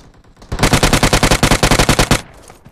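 A loud, close burst of rapid automatic gunfire from a bot in PUBG Mobile, with about fifteen evenly spaced shots in one sustained volley that stops abruptly.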